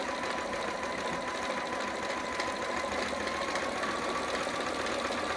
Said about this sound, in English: I'm going to back stitch just to secure that stitch